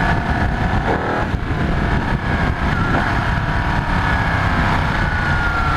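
A Ducati 1199 Panigale S motorcycle engine in race mode rises and falls in sustained revving, loud and close, with steady wind and road rush underneath and no talk.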